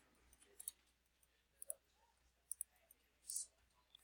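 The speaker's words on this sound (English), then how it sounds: "I'm going to click on all my lines that I want to show dimensions to" Computer mouse clicks while selecting lines in CAD software during cube dimensioning: a sparse run of faint, crisp single and double clicks, close up, over a quiet background.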